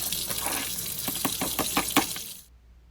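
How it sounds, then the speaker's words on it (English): Tap water running over dried peas in a strainer, a close rushing, splashing flow with small clattering pulses, stopping abruptly near the end. "you want to pour them into a strainer and rinse them off"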